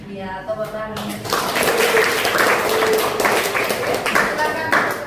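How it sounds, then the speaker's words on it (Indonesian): Classroom applause: after a brief sung or spoken phrase, a room of students claps hands in a dense, lively burst that fills about four seconds before thinning out. "tepuk tangan."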